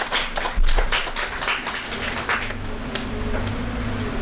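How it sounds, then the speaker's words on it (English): Scattered hand clapping from a small group of mourners at a funeral, a dozen or so sharp claps that thin out over a few seconds, with low background hum. "I think give her a little round of applause."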